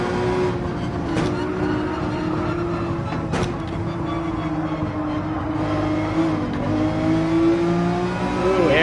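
Race car engine in Gran Turismo 7 holding a steady tone and rising as it accelerates, with a few sharp transients along the way; the engine is loud and continuous throughout.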